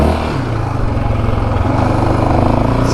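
A 2024 Yamaha Raptor 700R SE ATV being ridden gently during break-in, its single-cylinder engine droning steadily up close with slight rises in revs, no talking.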